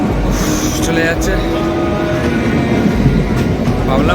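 A train pulls away from Dum Dum station, its loud rumble and rolling wheel clatter running steadily throughout, with occasional high squeals and faint voices around.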